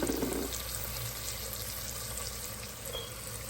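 Chopped onion dropped into a pan of khichdi with potatoes sizzles steadily, a soft continuous frying hiss with a slightly brighter burst at the start.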